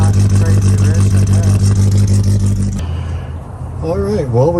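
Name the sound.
1987 Toyota Pickup 22R engine running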